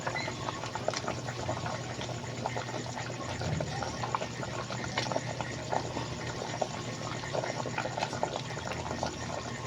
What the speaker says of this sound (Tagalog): Kumukulo-kulo na, sumasarap-sarap na ang ating ulam for today's video.